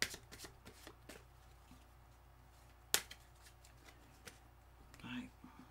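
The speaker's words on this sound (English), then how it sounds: "I'm going to give it another little shuffle because I'm having difficulty seeing which one it is" A deck of tarot cards is shuffled by hand, giving faint riffling ticks and soft taps with one sharp snap midway and a brief rustle near the end, all quiet and close.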